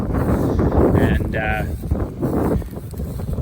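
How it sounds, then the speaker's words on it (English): Wind buffets the microphone on top of an exposed grassy hilltop knoll, a steady loud rumbling roar running throughout with brief tonal squeaks in the middle. "And then we get to the top of this really windy knoll"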